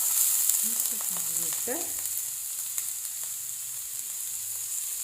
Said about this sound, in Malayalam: കറി വയ്ക്കാനായിട്ട് പാനിലേക്ക് എണ്ണ ഒഴിച്ച് എണ്ണ ചൂടായിട്ട് വന്നിട്ടുണ്ട് കേട്ടോ. ഇനി നമുക്ക് അതിലേക്ക് സവാള ഇട്ട് കൊടുക്കാം.